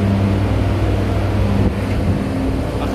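A compressor under repair runs with a loud, steady motor hum and strong tonal drone, holding even throughout with a slight shift partway through and no talking.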